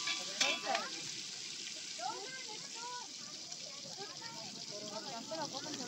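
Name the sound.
moong dal tempering (tadka) sizzling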